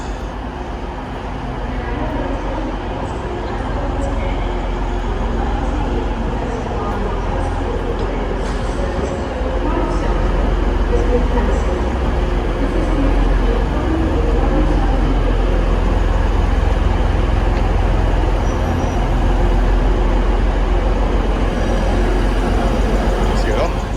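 Inside a Hull-bound train departing Manchester Piccadilly for Leeds, a steady low rumble and rolling rail noise fill the carriage throughout, loud and continuous, with voices talking over it.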